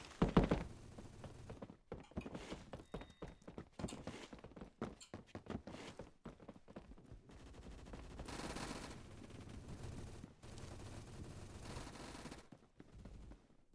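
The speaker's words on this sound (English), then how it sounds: "Let's see if we can do some hip fire with this bad boy" A gun is hip-fired in Deep Rock Galactic in rapid clustered bursts of shots separated by short pauses, then a steadier stretch of gunfire and action noise, all fairly quiet.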